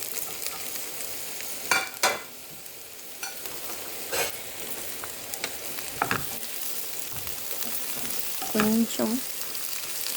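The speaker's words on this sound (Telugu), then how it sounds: "మనం ఇప్పుడు ఈ క్యాప్సికమ్ అంతా సాటే చేయాలి." Capsicum sautéing in hot oil in a pan for a capsicum gravy curry, a steady sizzle with occasional stirring scrapes and a brief spoken word.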